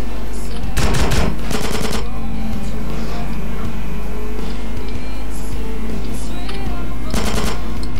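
Loud bursts of automatic gunfire in GTA San Andreas, one rattling volley early and another near the end, over a constant engine drone and scattered background game noise.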